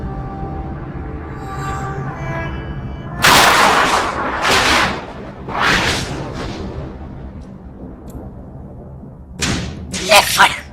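Gunshots in a Hindi-dubbed South Indian action film: a series of loud, sharp, broadband blasts spaced irregularly, some in quick pairs, following a quieter opening of voices and tonal background.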